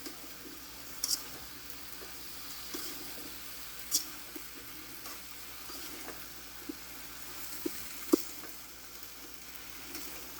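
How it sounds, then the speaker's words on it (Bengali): Flat beans and potatoes being sautéed in a pan give a soft, steady sizzle, fairly quiet, with occasional sharp clicks of a utensil against the pan. "এই যে সিম আর আলু ভালো করে কষিয়ে নেব।"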